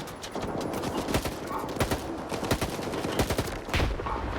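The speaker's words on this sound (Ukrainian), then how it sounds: "Ні, тут стріляють." Rapid video game gunfire in S.T.A.L.K.E.R. 2 crackles throughout, dense bursts of shots over a noisy background, moderately distant and continuous.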